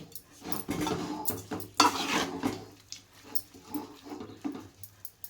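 A lid is set onto a pan of simmering tomato and dried fish curry, with a bright metallic clatter standing out amid scattered clinks and scrapes of cookware close by.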